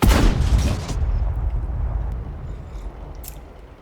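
A tank cannon in a video game fires once in a loud, heavy boom that rolls into a long fading rumble.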